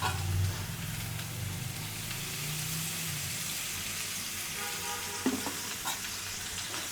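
Vegetable stalks with onion paste and mustard frying in a pan, a steady soft sizzle with occasional stirring scrapes and clinks, close and alone.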